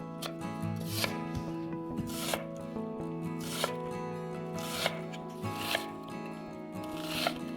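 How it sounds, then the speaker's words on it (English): Onions being chopped small with a knife on a board for a taco salad, a brisk run of crisp, evenly spaced cuts against a faint music bed. "For the onions, we prefer to chop them a little bit smaller than the tomatoes."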